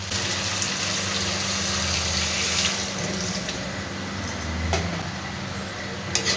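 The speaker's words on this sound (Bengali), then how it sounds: "এবার আমি পরিমাণ মতন জল দিয়ে দেবো" Water runs steadily from a tap or jug into a cooking pot of bitter gourd leaves and fish head, a continuous splashing pour with a low hum beneath, ending in a couple of small clinks.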